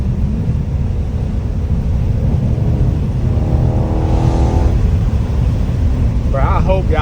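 A Dodge Charger 392 Scat Pack rumbles loudly from inside the cabin while driving, its engine note rising into a brief rev, with someone talking over it.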